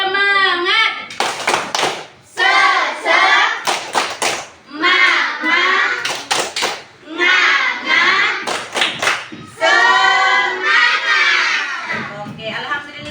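Schoolchildren in a primary classroom doing tepuk semangat, bursts of rhythmic group clapping and thumping woven through loud chanting voices of the kids, close and energetic.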